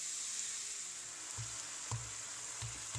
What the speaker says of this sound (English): I'm breaking up the meat with a spatula